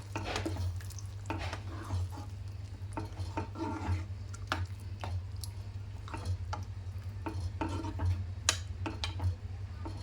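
A spoon stirs chole masala curry made with chickpeas, peas, yogurt and tomato in a pan over a low flame, giving steady scraping and rubbing strokes over a constant low hum.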